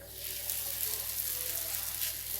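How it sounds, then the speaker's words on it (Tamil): Wheat parotta sizzling in a little oil on a hot griddle, a steady close frying hiss with no talk. "இப்போ நம்ம கல்லை ஹீட் பண்ணிவிட்டு இதை போட்டு எடுத்துக்கலாம்."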